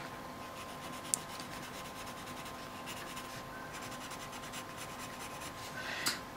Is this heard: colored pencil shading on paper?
yes